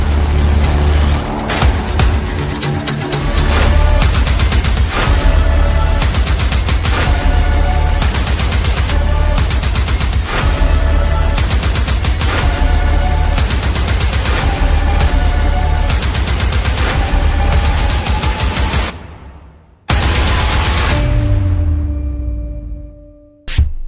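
An SSS Defense P-72 rifle fires in sustained bursts of loud gunfire, rattling almost continuously for about nineteen seconds before a short gap, one more burst and a fading tail.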